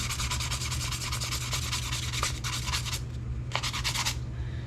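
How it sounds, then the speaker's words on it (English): 320-grit sandpaper scrubbing a rusty blued gun metal part, loud and close with rapid rhythmic rasping strokes in bursts, a brief pause, then more strokes over a low steady hum. "But I have some 320 grit sandpaper, and I'm just going to go over this thing."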